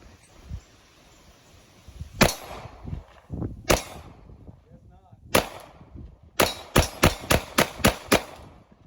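Magnum Research Baby Eagle pistol chambered in .45 ACP fired outdoors: two single sharp, loud reports, then one more, and finally a rapid string of six shots in quick succession, with no talk.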